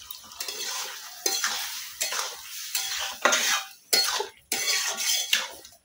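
Vegetable curry sizzles in a pan as a spoon scrapes and stirs it in repeated bursts, each stroke followed by a short pause.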